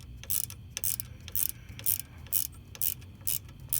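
A Torx bolt on a V9 Bobber motorcycle's right rear set is worked loose with a hand ratchet: a steady series of short, crisp clicking bursts, about one every half second, close up with a faint background hum.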